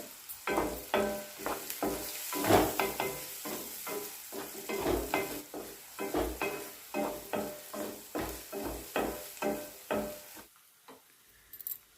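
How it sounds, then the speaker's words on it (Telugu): Onions and green chilies frying in oil in a pan while a spoon stirs them in steady strokes, giving a soft sizzle punctuated by regular scraping and tapping, fading out at the end. "ఉల్లిపాయలు కూడా ఆయిల్లో వేగనివ్వాలి ఇప్పుడు ఇందులో పచ్చిమిర్చి వేసుకొని అంతా కలుపుకోవాలి"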